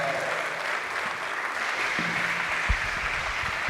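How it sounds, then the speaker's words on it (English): Spectators at a university squash semi-final applaud the players, a sustained, full round of clapping with a few sharper individual claps and faint voices mixed in toward the end. "Another round of applause, please, for Lily and also for Aika Asman."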